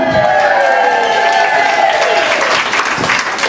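Audience applauding and cheering for staff team members at an evening gathering, a dense burst of clapping and calls that stays loud throughout.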